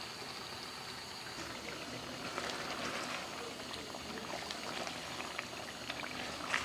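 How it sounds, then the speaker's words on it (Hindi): Peas and carrots boiling in a pot make a steady, close bubbling simmer with scattered pops and faint splashes throughout, and no one speaks. "मटर और गाजरों को उबाल आ चुका है"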